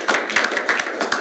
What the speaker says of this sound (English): Y'all gonna give me an applause.